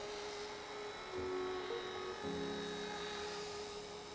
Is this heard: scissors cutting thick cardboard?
no